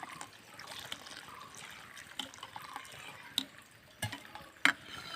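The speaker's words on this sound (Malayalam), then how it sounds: "നമ്മൾ ഉരുക്കി വെച്ച കരിപ്പെട്ടി ലായനി ഒന്ന് ഒഴിക്കാം ഒഴിച്ചു കൊടുത്ത് ഇളക്കിയെടുക്കാം" Melted palm jaggery syrup is poured into cooked pumpkin for a pumpkin pudding, giving a faint, soft trickle with a few light drips and small clicks close by.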